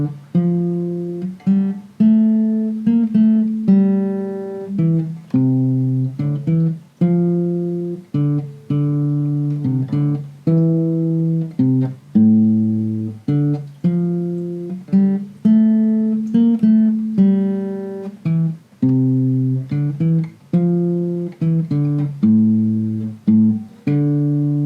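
Greensleeves played on acoustic guitar in 3/4 time at a quicker tempo, a full run of clear plucked melody notes over bass notes with a steady lilting rhythm, close and alone without any talking.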